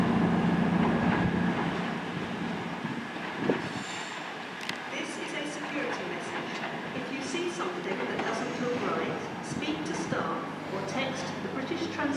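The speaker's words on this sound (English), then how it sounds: "cross-country service from Penzance to Glasgow Central" A CrossCountry class 221 diesel train running the Penzance to Glasgow Central service at Plymouth, heard as a steady rumble and rolling wheel noise that fills the scene throughout, with station ambience and a brief clunk.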